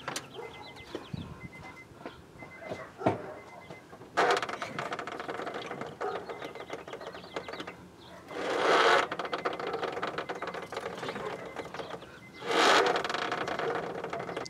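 A Honda power steering system whirs and whines while the engine runs and the steering wheel is turned, with a steady mechanical rattle that rises into two louder strained surges, heard close.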